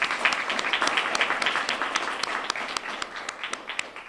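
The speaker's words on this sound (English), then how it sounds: "if we could give them a round of applause" An audience at a lieutenant governor's proclamation event gives a round of applause for student speakers, a steady crowd clapping with a few sharper, louder claps standing out near the microphone.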